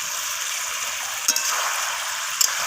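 Chicken frying in a pan with turmeric powder gives a steady close sizzle, with two brief scraping clicks as it is stirred and no voices.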